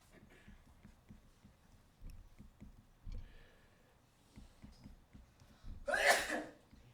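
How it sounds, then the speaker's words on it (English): A single sudden sneeze bursts out near the end, loud and close, after a stretch of low background murmur and soft thumps in a physics lesson setting. "If you're going to sneeze, go ahead and do it."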